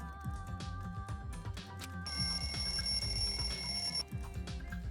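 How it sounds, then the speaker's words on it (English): A wall clock alarm in the video game Danganronpa 2 rings in a steady, continuous electronic bell tone that grows louder and brighter partway through, sounding alone over an underlying game music bed. "The lounge's wall clock alarm started ringing at 5:30."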